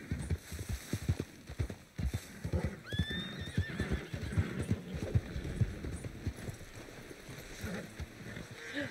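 Horse in Red Dead Redemption 2 gives a clear rising whinny about a third of the way in, over a steady run of close clip-clopping hooves with a faint wash of flowing water behind.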